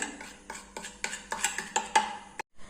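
Spoon stirring a tooth-cleaning paste mixture in a small bowl, giving about nine evenly spaced clinks and scrapes close by, with no voices.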